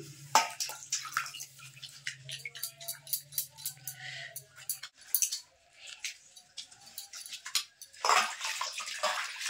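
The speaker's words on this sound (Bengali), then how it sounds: "এবার আমি তোমাদের একটু ঢেলে দেখাই জলের ভিতর।" Homemade orange peel soap stirred and poured into a bowl of water, giving irregular splashing, dripping and sloshing sounds up close with a low hum early on.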